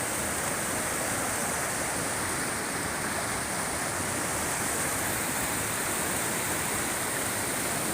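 A swift, shallow river rushes over rapids at a white-water rafting spot, a dense, continuous roar of water that is loud and close, steady throughout with no voices.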